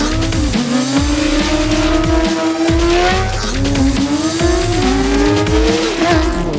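A motorcycle being practised for stoppies, its engine revving up and down under alternating bursts of throttle and brake, loud and close with rising and falling pitch throughout.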